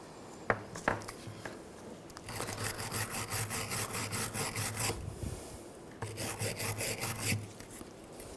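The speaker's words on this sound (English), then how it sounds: "use a wire brush. Just clean these up a little bit." Rapid back-and-forth scrubbing with a stiff wire brush on rear brake parts of a 2009-2010 BMW 535i xDrive, in rhythmic bursts separated by brief pauses, close by.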